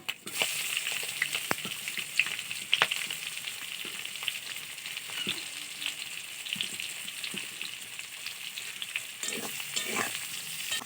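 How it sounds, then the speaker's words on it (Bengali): Diced onions fry in oil left from frying a katla fish head, giving a steady, close sizzle with occasional scraping clicks of a utensil, continuous throughout without talk. "পেঁয়াজগুলো এবার ভালো করে ভেজে নেব"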